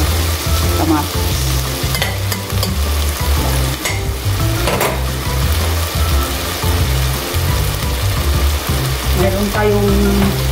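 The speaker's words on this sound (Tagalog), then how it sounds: "palakasin muna natin yung katas ng bawang, sibuyas, luya at saka kamatis." Garlic, onion, ginger and tomato sautéing in a pan for a grouper soup, a loud, steady close sizzle with occasional stirring clatter over a droning low background.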